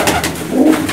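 An old racing pigeon kept for kabootar bazi, pigeon-flying competitions, gives a short, loud, close coo with a throaty rising burble, heard alone.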